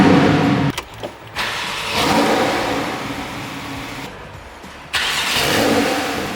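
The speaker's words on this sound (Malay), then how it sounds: "Okay, you masukkan kunci. Okay, so dia akan start kereta tu." A Porsche 911 Carrera 4 GTS engine cranks and fires up, then revs loudly and settles, with a brief quieter dip before the engine swells again, close and clear with no talk.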